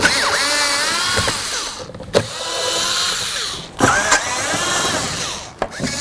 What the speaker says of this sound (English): Now we need to remove our 4 Phillips head mounting screws.